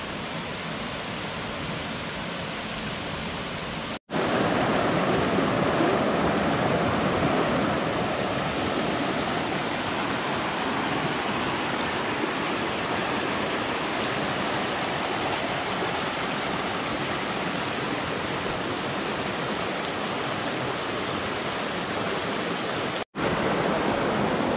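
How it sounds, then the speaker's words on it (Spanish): Large waterfall roaring below a trail, a steady dense broadband rush that fills the whole stretch evenly and loudly, broken by two abrupt cuts. "la gran catarata. Allá abajo."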